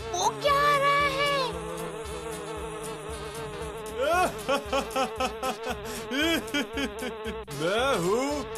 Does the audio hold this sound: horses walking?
no